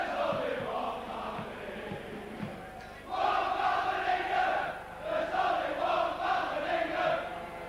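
A rugby league crowd at St Helens versus Australia, with rhythmic chanting and singing swelling loudly after a brief lull, while a commentator's voice runs underneath at the start.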